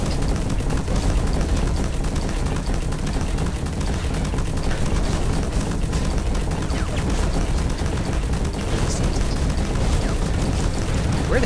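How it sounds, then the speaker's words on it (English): Dense, relentless gunfire and explosions from mech combat in the game Hawken, a loud continuous barrage of rapid shots and booming blasts filling the whole stretch, with faint voices briefly under it. "I hear some shooting"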